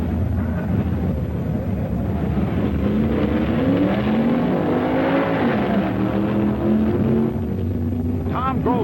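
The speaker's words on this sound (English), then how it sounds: "Tom Grove's Plymouth beats Arnie Beswick to the end of the quarter mile" 1960s drag racing cars, including a Plymouth, running the quarter mile. Engines roar and rise in pitch under acceleration, heard behind ongoing announcer commentary, with a sharp, wavering high whine near the end.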